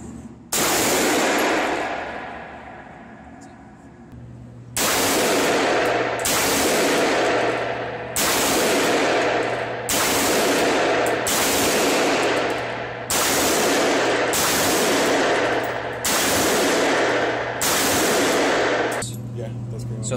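Gunshots at an outdoor shooting range, about eight loud, sharp cracks fired one at a time every two seconds or so, each with a ringing tail, close to the listener.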